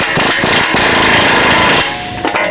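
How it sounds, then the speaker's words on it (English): An impact wrench with a shallow 11/16 socket tightens front bumper bolts near the winch plate on a Jeep JK Wrangler, giving a loud, close, continuous hammering rattle that stops abruptly after a few short bursts. "we're going to take a shallow 11/16 socket and just kind of angle our impact and tighten it"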